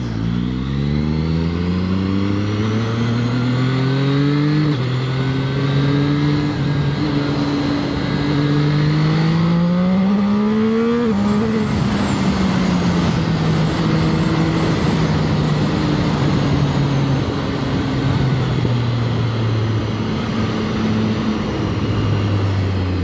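A Zhang Xue 820RR motorcycle accelerates hard with quick-shifter gear changes, its loud engine note climbing in pitch and dropping at each shift, repeated several times under heavy wind noise.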